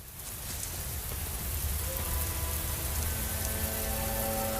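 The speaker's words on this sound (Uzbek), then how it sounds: "Faddonga mana bugun yomg'ir yog'di." Steady rain falls across the whole stretch with a constant broadband hiss, joined partway through by a low sustained tone and faint traffic-like rumble underneath, with no talking.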